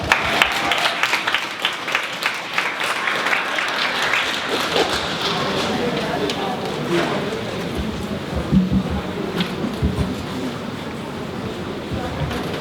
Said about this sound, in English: please welcome her with a loud applause